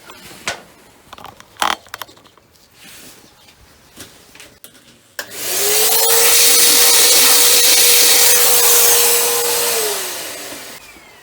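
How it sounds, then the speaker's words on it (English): A vacuum cleaner sucking rust and dirt out of a spark plug hole on a Ford Fiesta Mk3 switches on partway through after some light handling clatter, then whines loudly and steadily for about five seconds before winding down. "I'm just going to give that another vac."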